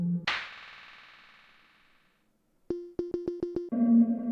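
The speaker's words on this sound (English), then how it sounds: "here's how the snow level percussion sounds alone, then with the echo added" Donkey Kong Country SNES snow-level percussion: a single ringing struck hit decaying slowly, then a short rapid series of sharp repeated hits with delay echo, ending in a denser sustained tone, loud and alone.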